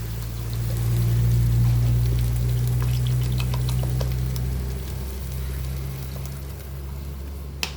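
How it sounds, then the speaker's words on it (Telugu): Milk pours into a pan of cooking bottle gourd and sago for payasam, a steady loud stream that tapers off, with faint sizzling bubbles around it. "ఇప్పుడు ఈ టైంలో మనం మిల్క్ వేసుకుందామండి."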